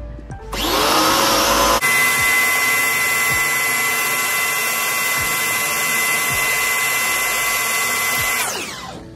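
Ingco 1400W high pressure washer (HPWR14008G) running, a loud continuous motor hum with steady tonal whine, starting with a surge of spray noise and stopping sharply near the end.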